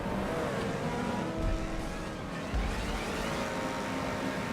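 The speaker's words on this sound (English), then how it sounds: "Kinda nice car. I don't like the sound." A car engine in GTA Online hums and drones steadily throughout, with a broad rushing noise and a couple of low surges, heard alone with no talking.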